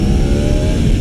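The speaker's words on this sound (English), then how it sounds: "you hear the engine kind of going" Inline-four motorcycle engine held at high revs with the throttle slapped open, a steady loud buzzing scream that does not break for the whole short stretch.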